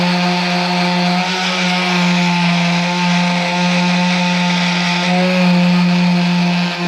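Power tool grinding Bondo body filler off a car body part, a continuous loud steady whine with a strong motor hum throughout, no voices.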